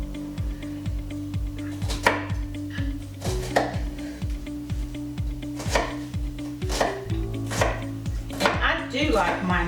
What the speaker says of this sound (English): I kind of just turn it over and give it a good chop through